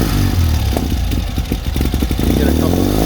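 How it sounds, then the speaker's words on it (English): A 2021 Ural GEO motorcycle with an aftermarket exhaust, its engine blipped in a couple of short revs over a loud, steady idle, close to the exhaust with a low rumbling clatter. "I'll give it a couple minor revs for you."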